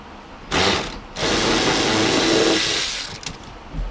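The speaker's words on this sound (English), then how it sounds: "Pull these two bolts out to get the seat out." A ratchet or power tool whirs in two close bursts, one short then one longer and steady, while removing two 12mm bolts beneath the rear seat of a Subaru WRX, ending with faint clicks.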